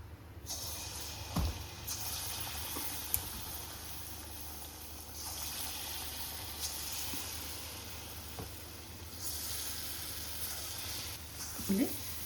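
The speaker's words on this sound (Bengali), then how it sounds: "কড়াইয়ের মধ্যে তেলও দিয়ে দিলাম, সাদা তেল দিয়ে দিয়েছি। এবার এখান থেকে আমি বড়া দিয়ে দিচ্ছি।" Palm fritters (taler bora) of plum batter fry in hot white oil in a wok over high flame, a steady, soft sizzling hiss close by, with a few small clinks and bubbling surges.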